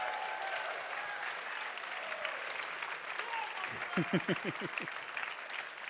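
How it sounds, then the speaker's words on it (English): RuneFest crowd clapping in a large hall, a distant, moderately faint wash of applause with a voice speaking over it near the end. "Yeah, that's worth a clap."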